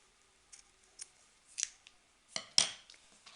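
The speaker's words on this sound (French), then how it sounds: "je coupe ici." Scissors snip knitting yarn for a knitted elf toy, with a few crisp close metallic clicks and cuts spread over a few seconds, the last snip the loudest, in a quiet room.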